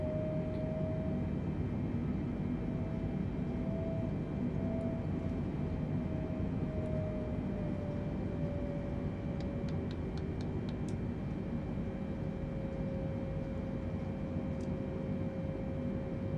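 A Boeing 747 taxis in Microsoft Flight Simulator, its engines a steady, continuous low rumble with a sustained whine that holds evenly throughout, no voices present.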